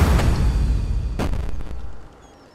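Cannons firing in the pixel-art pirate ship game Pixel Piracy: a loud booming rumble followed by another sharp blast, then a fading tail into quiet, with no voices.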